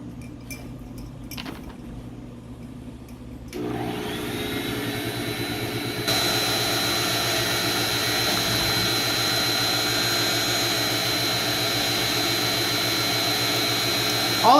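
A mag drill running a step drill bit into stainless steel, with a steady loud motor whine and grinding that rises partway through and holds as the cut continues.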